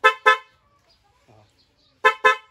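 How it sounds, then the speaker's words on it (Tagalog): Newly installed loud car horn tested with two pairs of quick, sharp honks, one pair at the start and another after a pause of near silence. "Pag pinindot natin, loud horn na siya."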